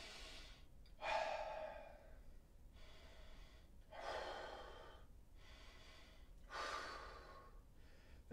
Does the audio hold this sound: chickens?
no